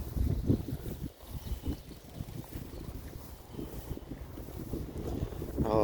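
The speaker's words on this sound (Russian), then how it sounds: "Вот как ветер." Gusty wind at Lake Seliger buffeting the microphone outdoors, a rough roaring rumble that rises and falls in strong bursts, with faint flapping.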